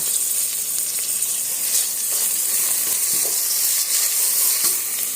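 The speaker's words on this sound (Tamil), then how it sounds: "இப்போ இஞ்சி பூண்டோட பச்சை வாசனை போகிற வரைக்கும் வதக்கி விட்டுறலாம்." Ginger-garlic paste with mint and coriander leaves frying in oil for kuska rice, a loud continuous hissing sizzle with faint stirring scrapes throughout, close and unbroken, with no talk.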